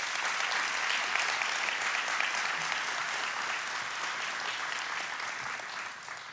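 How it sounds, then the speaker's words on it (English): Steady, dense applause from a graduation ceremony audience at a fire service academy, sustained and even throughout, tapering slightly at the end with no voices over it. "you deserve a round of applause for your leadership"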